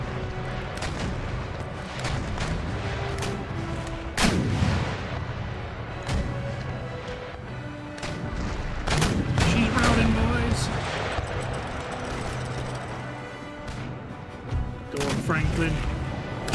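Naval cannon volleys boom repeatedly during a ship battle in the strategy game Empire: Total War, with heavy rolling blasts layered over continuous game noise and talk throughout.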